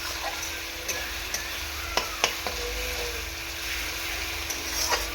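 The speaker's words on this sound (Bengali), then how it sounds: "এরকমভাবে আগে কষিয়ে নেব ভালো করে আর ভালো করে আদা রসুন না কষালে কাঁচা গন্ধটা থেকে যায়" Mutton sautéing in a pan with ginger and garlic, stirred: a steady close sizzle with scattered sharp scraping clicks from the stirring, and no talking.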